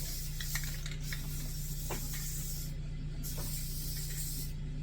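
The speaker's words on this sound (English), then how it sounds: "It's amazing what just some spray paint can like dress up again." Quiet hiss of spray paint misting onto the plastic rim of a rock solar fountain outdoors after rain, in short bursts with brief pauses, no talking.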